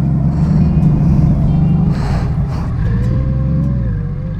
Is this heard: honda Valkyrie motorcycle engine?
yes